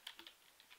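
Typing on a computer keyboard, a rapid run of quiet close key clicks in an uneven rhythm.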